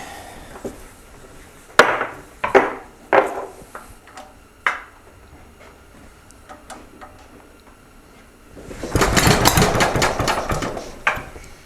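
Sharp irregular knocks and clunks from the worn lower end of a 74-year-old Briggs and Stratton small engine, several spaced strikes, then a louder rough mechanical rattling near the end.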